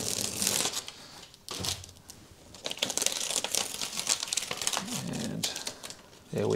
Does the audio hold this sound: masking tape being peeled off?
yes